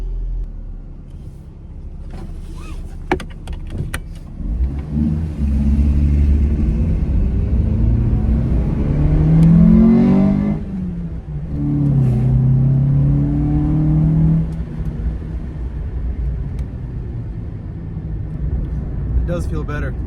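A Mitsubishi Mirage, fitted with Torque Solutions solid shifter bushings, drives on a test run, its engine revving up and easing off through gear changes, a close steady rumble with loud accelerating swells.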